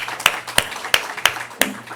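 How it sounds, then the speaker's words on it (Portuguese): Sparse handclaps from a conference audience at a news business summit, five distinct claps spaced about a third of a second apart, fairly close and without talk. "Palmas para o Sérgio."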